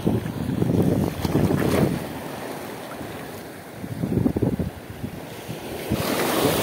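Heavy surf rolls and crashes in steady surges, with strong wind buffeting the microphone throughout.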